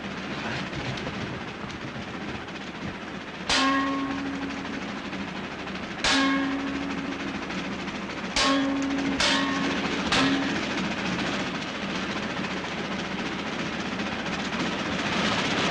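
Train rolling on rails in a 1937 film scene, a steady low rumble with several sharp clanks and brief whistle-like tones at irregular intervals, moderately faint.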